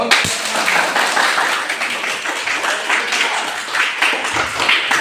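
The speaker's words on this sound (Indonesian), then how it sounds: "tepuk tangan dulu" Students in a classroom clap together on a teacher's cue, a dense, steady patter of many hands that fills the room for the whole stretch without a break.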